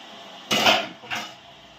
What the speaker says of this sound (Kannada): ಇನ್ನೊಂದು ಸ್ವಲ್ಪ ಮುಚ್ಚಳ ಮುಚ್ಚಿಬಿಡಣ್ರಿ